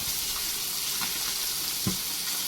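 Fish frying in hot oil in a pan, a dense continuous sizzle with a couple of faint low knocks, close and steady, no voices.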